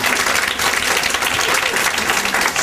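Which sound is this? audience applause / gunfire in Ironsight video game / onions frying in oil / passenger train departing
audience applause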